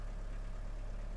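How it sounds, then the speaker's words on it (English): A sailboat's water-cooled engine runs at a steady idle, a continuous low, humming drone with an even pulse, close by and unchanging, with no voices. "It's the engine working and being cooled by water,"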